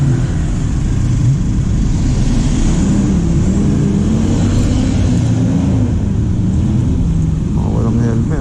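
Busy road traffic of many cars and motorbikes on the way to Tagaytay, heard from a moving motorcycle, with a steady loud engine and road rumble throughout and some faint talk.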